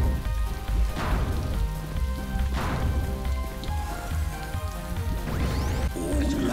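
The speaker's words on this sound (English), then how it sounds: "Why is the rain making noise in the game?" Steady rain pours in the video game Electronic Super Joy, a dense, loud, continuous patter that fills the clip, with chiptune-like game sounds layered underneath.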